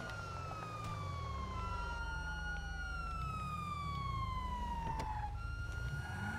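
Police sirens in Grand Theft Auto V wail in overlapping rising and falling tones over a steady low engine rumble, with several sirens layered together throughout.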